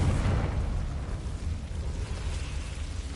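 Confringo blasting curse from a Harry Potter wizarding game, a loud rumbling explosion with a sustained low roar and crackling debris that fades slowly over three seconds, no voices.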